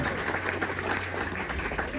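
Brief audience clapping at a Cleveland Guardians event at the Music Box Supper Club, steady crowd applause with voices mixed underneath.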